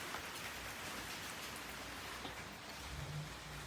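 Light rain falls steadily in an uptown setting, a soft continuous hiss of drops on surfaces with no pauses, fairly close and even throughout, with a faint low hum near the end.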